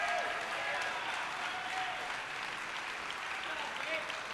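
Many hands clap steadily for prize winners at the 2019 Reapercon miniature-painting awards ceremony, a soft, even wash of applause from a moderately distant crowd, with faint voices in the room.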